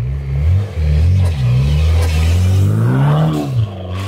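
Mitsubishi Evo X engine revving hard during a drift, loud and close, the pitch rising and dipping in repeated surges with brief lifts between pulls.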